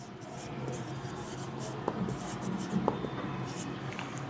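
A pen scratches on paper while a math solution is written out, in soft continuous strokes with a few small taps. Faint voice sounds sit in the background.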